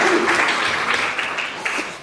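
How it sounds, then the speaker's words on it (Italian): Brief audience applause of encouragement at an Italian talk introducing a speaker, a dense burst of clapping from a seated crowd that fades slightly toward the end. "gli facciamo un bel applauso di incoraggiamento"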